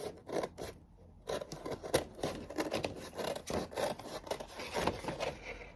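Scissors snip and rasp through towel fabric in quick repeated cuts, close by and fairly quiet, with a short pause near the start.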